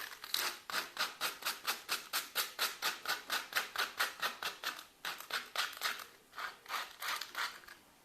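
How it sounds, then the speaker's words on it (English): Decoupage paper is peeled off furniture in a steady run of about thirty short, crisp tearing strokes, rhythmic and close, with a brief pause midway. "Eventually it will start releasing and you'll be able to pull away the paper nice and cleanly."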